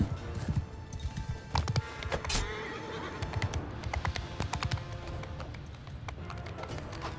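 Cavalry horses galloping in a Mount & Blade II Bannerlord battle, a busy clatter of hooves with occasional neighs and battle noise, moderately loud throughout.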